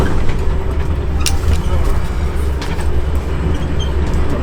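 Overnight first-class train between Giza and Aswan in Egypt slowing as it nears a station, a loud steady rumble of wheels and carriage with faint squeaks, while someone talks over it.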